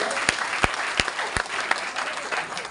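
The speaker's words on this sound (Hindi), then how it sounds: "तो एक बार जोरदार तालियां" Loud applause from an audience at an RCM business meeting in Gwalior, a dense wash of clapping with a few sharp, loud claps standing out at irregular intervals.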